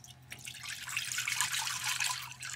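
WD-40 poured from a container into a Pyrex dish in a workshop, a steady close liquid trickle and splash lasting a couple of seconds.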